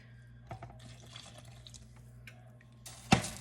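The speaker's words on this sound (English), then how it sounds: "Now I'm going to put some more water in it." Water is poured into a cooking pan while a Salisbury dinner is prepared, giving a soft trickling splash over a low steady hum, then a brief louder splash near the end.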